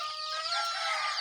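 Young poultry-farm chickens about twenty days old, a brief chorus of high chirping and clucking calls nearby, thin and moderately loud without talk.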